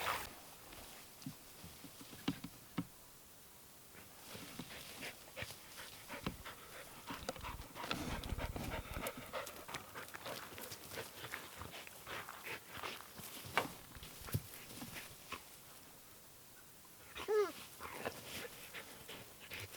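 Two dogs pant near the microphone at a campsite, quick rhythmic breaths with occasional whimpers and brief yips, fairly faint, with someone speaking now and then.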